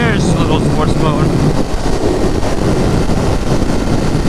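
A 2019 Ducati Monster 821 motorcycle engine drones loudly and continuously while riding at moderate revs, with wind noise buffeting the microphone throughout.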